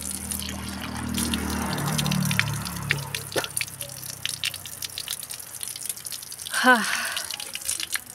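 Water splashes and drips from a tank-side tap as someone washes their feet in a village yard, faint and patchy, with a brief voice in the background.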